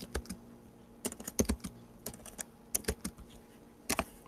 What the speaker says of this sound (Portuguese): eu vou colocar aqui ó, Enter, que é o caractere /n